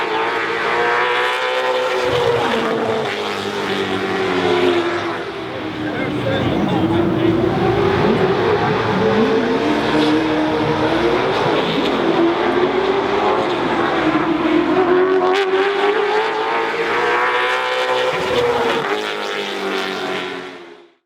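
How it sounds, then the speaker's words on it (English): Late model stock cars racing at Carteret County Speedway, loud engines roaring and shifting pitch as cars pass, continuous and close throughout, rising and falling with each sweep of the field. "I'm here at Bobby Watson's Carteret County Speedway for the late model stock cars tour and the Coastal Coast 125."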